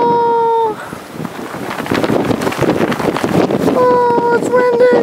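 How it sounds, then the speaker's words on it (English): Wind roaring in a snowy blizzard, a loud, continuous rushing gust buffeting the microphone, with faint whistling tones at the start and end. "Oh, it's windy."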